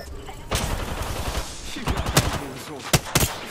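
Gunfire from a weapon in Apex Legends, set to single fire: a burst of shots opening the clip, then several sharp separate reports spaced irregularly, loud and close, with a voice speaking over parts of it.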